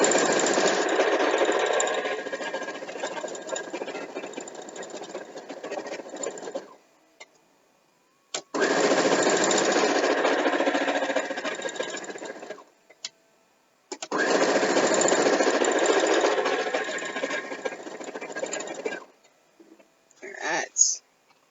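A sewing machine stitching a queen-sized quilt runs in three long bursts of steady mechanical whirring, each several seconds long, separated by short pauses, close and loud.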